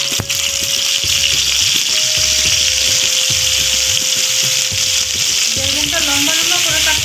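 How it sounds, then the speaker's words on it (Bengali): Eggplant pieces fry in a small amount of hot oil, giving a loud, continuous close sizzle with bubbling crackle, accompanied by a steady underlying hum and soft rhythmic thumps. "বেগুনটাকে আমি ভাজবো, অল্প তেলেই ভাজবো একটু।"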